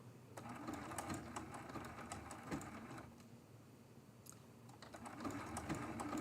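A sewing machine runs a zigzag stitch around an appliqué flower on a quilt block, its rapid mechanical needle chatter continuous and close, with brief slowdowns and a small pause midway.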